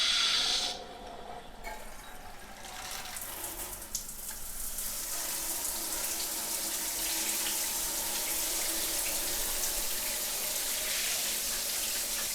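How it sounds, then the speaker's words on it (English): All-metal dual shower head with handheld spray running during a leak test after installation, giving a steady broad hiss of spraying water that starts after a brief pause and continues loud and even throughout. "let's just test for leaks and we'll go through a little demo of the different water sprays"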